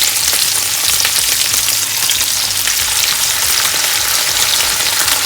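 Quail pieces deep-frying in hot oil, a dense, loud, steady crackling sizzle filling the whole stretch without any voices.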